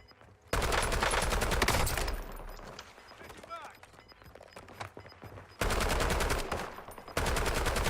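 Heavy automatic gunfire in the Warzone shooter game, with two loud sustained bursts of rapid shots separated by a quieter stretch of game ambience and faint voices, then a final burst near the end.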